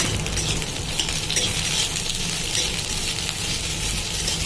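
Chopped onion fries in hot oil in a pan, giving a loud, continuous hissing sizzle that stays steady throughout, close up and with no voices.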